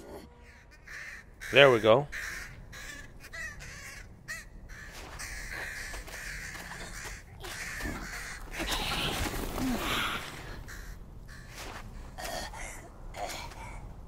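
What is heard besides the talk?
crows cawing in The Lord of the Rings: Gollum video game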